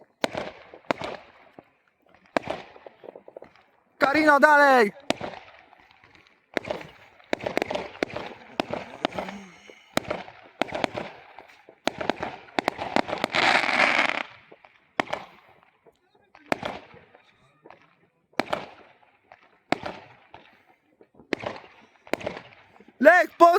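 Fireworks bursting over Łaszczyn, a scatter of sharp single and double bangs and crackles spread through the stretch, fairly close, with excited voices talking and shouting between and over the blasts.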